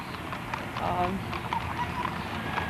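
Faint horse hooves clip-clop at a distance beneath people talking outdoors at a Memorial Day parade, the steps soft and uneven.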